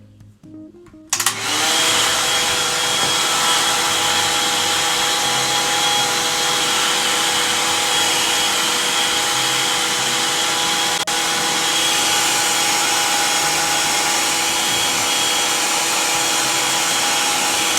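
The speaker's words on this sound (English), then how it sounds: "So we're just gonna start gently blow dry our hair and pull our hair forward." After a short quiet moment, a hair dryer switches on and blows steadily on hair during a half wig install, a loud, constant airy whine holding without pause to the end.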